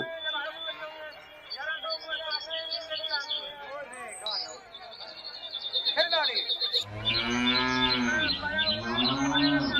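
A white calf, among animals kept for a Qurbani sacrifice, moos repeatedly with drawn-out, wavering calls that grow louder and fuller near the end. Voices chatter in the background.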